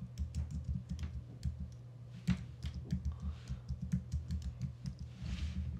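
Fast, steady typing on a computer keyboard, with dense close key clicks running continuously over a low background hum and no talk.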